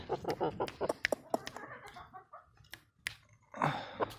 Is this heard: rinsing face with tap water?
no